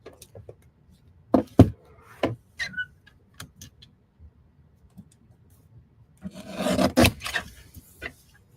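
Paper card stock is trimmed for popcorn-themed cards, giving scattered short rasping cuts and scrapes at uneven intervals. The sounds grow into a denser cluster near the end over a quiet background.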